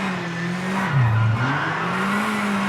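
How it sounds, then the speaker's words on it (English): A Mitsubishi rally car in the V-Rally 4 racing game whines with a steady electric motor tone that dips briefly and climbs again, over a continuous noisy rush of tyres and road. "go back to going off the engine sounds compared to just the electric motor and the tyre screeches"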